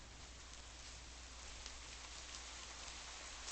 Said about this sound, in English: And it's raining over here.